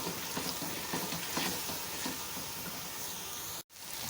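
Masala frying in a pan for Indian-style beef paya (bong paya curry), giving a steady, close hiss and sizzle that runs continuously, with a brief drop-out near the end.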